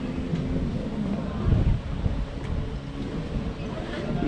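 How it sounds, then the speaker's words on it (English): Strong wind blowing along a beach promenade at Playa de Palma, Mallorca, producing a steady, loud low rumble and buffeting against the microphone, with a brief stronger gust partway through. "It's when you come to a place like this where there's nothing sheltering us from the wind"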